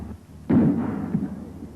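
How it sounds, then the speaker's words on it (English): Small shaped charges go off to detonate or neutralize bomblets on a damaged military runway. One muffled, booming blast arrives suddenly and rumbles away over about a second, heard from a distance. "These men are using small-shaped charges to penetrate the bomblets, thereby detonating or neutralizing them."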